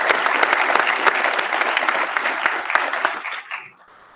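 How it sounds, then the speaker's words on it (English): An audience claps in a dense burst of applause that holds steady, then fades out quickly at the end. "Let's give Jen a round of applause."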